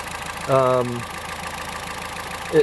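A hybrid car engine with two igniters per cylinder keeps idling with one ignition coil unplugged, a steady low running rumble under brief bits of speech.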